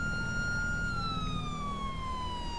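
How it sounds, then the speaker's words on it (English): A police car siren in the LSPDFR mod for GTA V wails loud and steady throughout, its pitch sliding gradually lower, over a low engine rumble. "We're gonna be engaging the siren."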